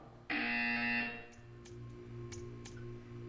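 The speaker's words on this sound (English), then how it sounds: "You will hear a buzzer." A loud electronic buzzer from the video game Portal 2 sounds once for about a second, a steady harsh tone that cuts off, followed by faint clicks and ticks in the game's background.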